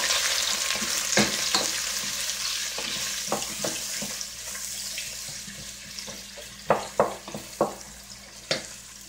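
Onions hit preheated oil for Cameroonian ndolé, giving a continuous sizzle broken by several loud utensil scrapes and knocks of stirring, close and prominent, with no talking.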